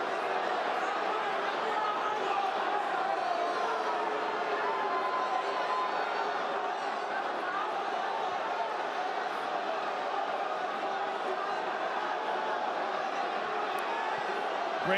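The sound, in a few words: crowd booing at UFC fight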